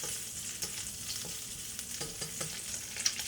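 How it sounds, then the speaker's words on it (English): Ginger stir-fried in very hot bacon fat over high heat, a continuous crackling sizzle with soft spatula scrapes, close and moderately quiet. "Some ginger in. Stir for a couple minutes."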